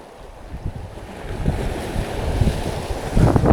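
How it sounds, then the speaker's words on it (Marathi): Sea waves wash and surge close by on the Mumbai shore, building in loudness, with wind buffeting the microphone throughout. "हो, हो, हो, हो या लाटा बघा"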